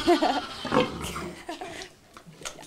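A pig grunts being fed in a children's farm setting, a few rough close grunts at the start followed by quieter snuffling and faint voices nearby.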